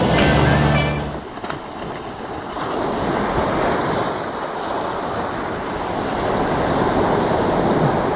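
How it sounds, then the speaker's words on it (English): Ocean surf rolls onto a beach in a continuous loud wash, with wind buffeting the microphone and a rumbling gust at the start; no one speaks. "it's a stunning day down on the beach today"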